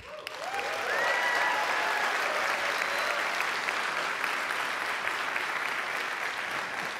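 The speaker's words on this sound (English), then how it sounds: "Let's first meet and applaud our debaters." An audience applauds debaters as they are introduced on stage. The clapping swells quickly and holds as a dense, steady roar of many hands throughout.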